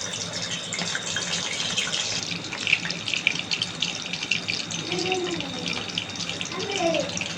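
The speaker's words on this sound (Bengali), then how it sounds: "এইভাবে কিন্তু লাল লাল করে একদম ভেজে নেবো পকোড়াগুলো" Lentil chili pakoras fry in hot oil, giving a continuous bubbling sizzle with crackly spits throughout and a voice faintly in the background.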